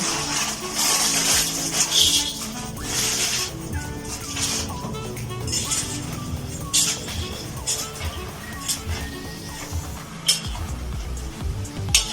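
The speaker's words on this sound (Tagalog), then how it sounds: "kumukulo na po yung ating sabaw" Broth bubbling and hissing steadily in a pot before pancit canton noodles are added, with occasional clinks of utensils against metal close by.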